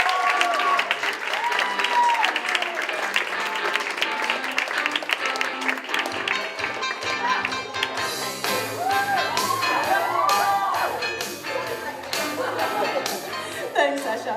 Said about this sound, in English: Can you please give a huge round of applause for Asha Peck?